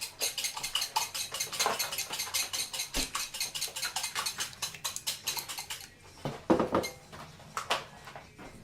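A large mixer runs through a batter made with evaporated milk in a big bowl, giving a rapid, steady clatter and tapping that continues for several seconds before turning into a few irregular louder knocks near the end.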